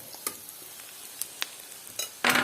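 Food frying in a pan, with a few sharp sizzling crackles and stirring clicks scattered over quiet kitchen background, ending in a louder burst of sizzle.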